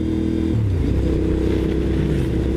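A Castrol Honda SP1 motorcycle's engine runs close and loud, a gruff, throbbing idle that rises and shifts in pitch as the throttle is blipped.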